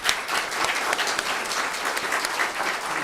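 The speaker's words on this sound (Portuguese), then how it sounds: "E com uma salva de palmas, né?" An audience at a talk about the job market for condominium lawyers claps steadily to welcome a speaker, a dense spread of many hands heard fairly close with no voices over it.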